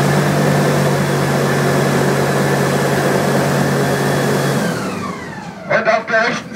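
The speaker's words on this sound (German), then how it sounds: "mit einem GM Big Dog Motor V8" A GM 8.1-litre 500 hp V8 boat engine gives a loud, steady drone with low harmonic hum for several seconds, then tapers off, followed by a few brief higher mechanical whines near the end.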